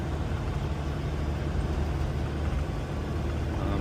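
A heavy Peterbilt truck engine rumbles nearby, a dense continuous low-pitched roar with steady broadband road noise and no pauses.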